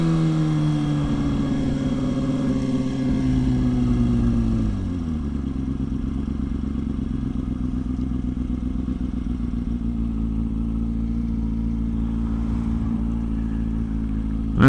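A motorcycle engine drones steadily while riding. Its pitch drops sharply after a rough downshift partway through, then settles into a lower, even hum, close and alone.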